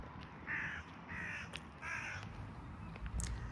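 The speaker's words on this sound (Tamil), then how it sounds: "அங்கால பார்க்க ஒரு கணக்கு காகம், யாரோ அதுக்கு சாப்பாடு போட்டணுமோ என்னன்னு தெரியல, நிறைய காகம் பறந்திருந்தது." Several crows caw in a park in Coventry, three or four harsh calls in a rhythmic sequence, fairly faint and distant over quiet outdoor ambience.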